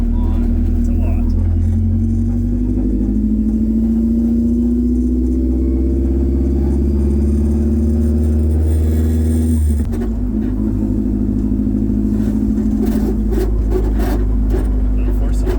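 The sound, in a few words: K24-swapped Toyota AE86 exhaust and tire rub while driving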